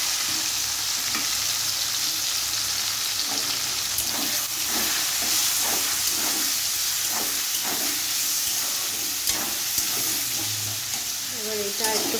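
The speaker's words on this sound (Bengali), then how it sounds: "এবার এটা একটুখানি ভাজা ভাজা হওয়া পর্যন্ত আমাদেরকে ওয়েট করতে হবে।" Chopped tomato and onion frying in a pan, giving a continuous hissing sizzle with intermittent stirring scrapes and crackles, fairly close and with no talking over it.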